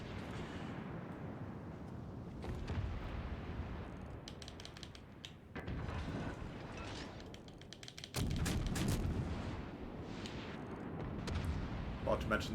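Enemy ship's naval guns firing in World of Warships Legends, heavy booming salvos landing in several bursts with a loud close blast near the end, over a constant low roar of battle.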